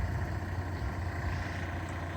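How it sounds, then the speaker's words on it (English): Volvo S60 engine idling, a faint steady low rumble with even tone throughout, no voices. "The engine now is idling."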